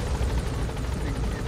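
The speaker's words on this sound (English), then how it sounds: "do you hear that my helicopter plays Ride the Valkyries when I land?" A helicopter lands in Metal Gear Solid V with a loud, continuous rotor chop that fills the scene, heard up close and steady throughout.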